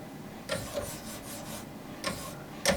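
A knife edge is drawn across 1000 grit diamond lapping film in a sharpening jig, giving soft, repeated rasping strokes, each brief and fairly quiet, with short pauses between passes.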